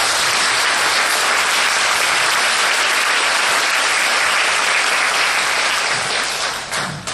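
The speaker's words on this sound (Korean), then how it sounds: "많은 박수 부탁드립니다" During a maritime university lecture, a large audience breaks into sustained applause, loud and even throughout before tapering off slightly at the very end.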